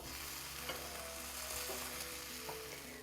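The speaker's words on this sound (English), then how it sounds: "I'm going to press it with a spatula for it to melt and cook and stick together, for it to become a roasted eggplant sandwich" A roasted eggplant panini sizzles quietly in a hot pan as a spatula presses down on it. The crackle is low and steady, with a couple of soft scrapes and taps. No voices.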